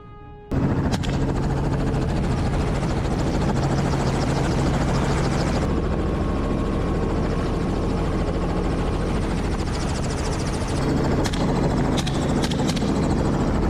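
A hunting helicopter's rotor beats steadily and loudly in flight over hog-hunting country, a continuous close whirring drone that holds for the whole stretch with no voices.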